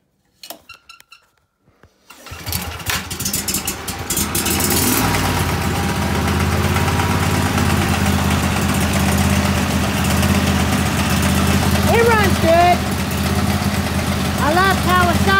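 Kawasaki-engined leaf blower, pull-start only and set on choke, sputters through a few brief pull attempts, then catches and settles into a loud, steady idle that runs on alone with a constant low drone.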